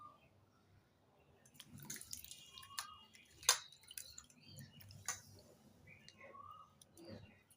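Pieces of ash gourd, soaked in lime water, are rinsed in fresh water, producing sparse quiet drips, splashes and soft squishes scattered over a near-silent background.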